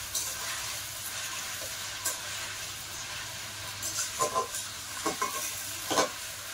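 Potatoes fry in hot oil as a spatula stirs them, with a steady soft sizzle throughout and a few scraping stirs near the end, close and fairly quiet.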